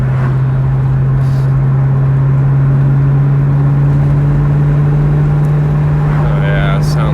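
A 2003–2004 Ford Mustang Terminator Cobra engine runs with a steady, even drone and constant loudness, and brief voices come in near the end.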